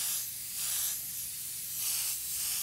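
An airbrush sprays paint over a watercolor painting in soft hissing bursts, each swelling and fading in a slow rhythm, close and fairly quiet with no talking.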